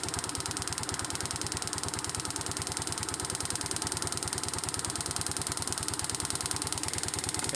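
An engine on a vehicle fitted with a grounding strap runs close by with a steady, rapid pulsing idle and a faint clattering edge, holding a fairly even level throughout with no talking.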